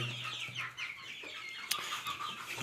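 A small flock of quails, four hens and a cockerel, cluck and chirp in short overlapping bursts close by, with one sharper call standing out near the end.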